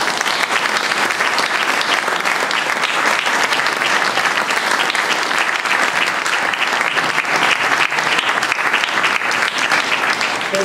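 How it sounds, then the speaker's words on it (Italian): An audience at a local history society event applauds in memory of two commission members, a long, steady, dense round of clapping from many people, even in loudness throughout with no talk over it. "Non li ricorderemo col silenzio ma con un applauso."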